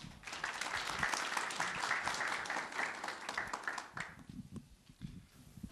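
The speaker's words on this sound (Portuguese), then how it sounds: "vamos recebê-lo com uma salva de palmas" Audience applause at a Unifesp medical school talk in São Paulo welcomes a speaker with dense, steady clapping that fades out after about four seconds, leaving a quiet room with a few scattered claps.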